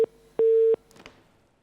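A telephone line gives a busy tone after a caller hangs up on a live call-in news broadcast, with two clear beeps separated by a short gap followed by faint clicks.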